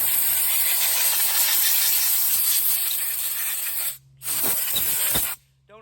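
Compressed air from a compressor blasts loudly and steadily in a harsh hiss while cleaning a chainsaw, then cuts off, returns in a short burst and stops.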